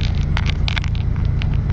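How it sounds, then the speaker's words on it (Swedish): A car rolling in and coming to a stop nearby, a short low engine rumble with crackling tyre noise on the surface, heard alone and fairly close. "Det kom en bil och stannade vid Lindes."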